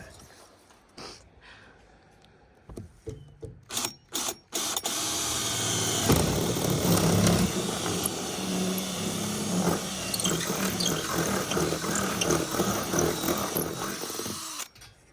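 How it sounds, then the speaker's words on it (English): A power drill bores a hole through the sheet-metal roof of a Ford Transit van for a roof rack, a steady close whine lasting several seconds after a few clunks and handling noises. "Hole drilled."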